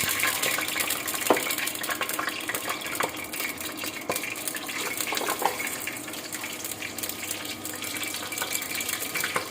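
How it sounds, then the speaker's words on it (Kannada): Fenugreek seeds frying in a pan for fish curry give a steady, close crackling sizzle with scattered small pops and faint utensil clinks, with no talking. "ಫ್ರೈ ಮಾಡ್ತಾಯಿದ್ದೀನಿ."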